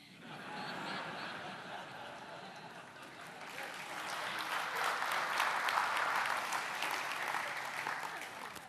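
At a youth event in Perth, an audience laughs and then breaks into applause during a talk, scattered chuckles growing into a loud, sustained wave of clapping that swells over the second half.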